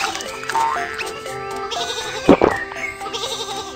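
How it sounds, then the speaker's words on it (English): Sheep bleat repeatedly in a Baby Panda children's police game, a couple of clear close bleats over bright cartoon music and game effects, with one louder burst near the middle. "Some sheep are on the train track."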